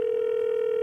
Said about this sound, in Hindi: दूसरे कॉलर को फोन लगाते हैं और पूछते हैं उनके मन के सवाल.